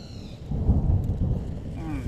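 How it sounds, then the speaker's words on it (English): Heavy rain pours steadily with a low rumble of thunder rolling underneath, close and continuous. "Today is very challenging because of rain."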